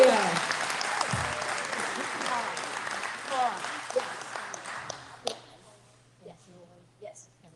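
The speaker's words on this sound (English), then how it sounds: "So we want to give him a big round of applause again." An audience applauds at a tornado relief fundraiser. Dense clapping fills the room, then thins and fades to a few stray claps, and a voice continues over the room.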